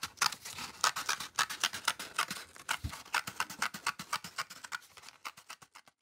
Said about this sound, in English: now you can get your scissors in and cut to the edge. So we're going to quickly cut that circle out.